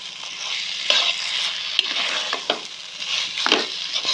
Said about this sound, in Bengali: নামানোর আগে আমরা এর মধ্যে দিয়ে দেব ধনেপাতা আর দিয়ে দেব কাঁচা সর্ষের তেল, দিয়ে একটু নাড়িয়ে চাড়িয়ে এটাকে আমরা নামিয়ে নেব